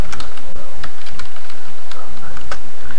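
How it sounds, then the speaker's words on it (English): Computer keys are tapped in a quick irregular run as a name is typed on a keyboard, each click crisp and close, with no voices. "So you'll type your name"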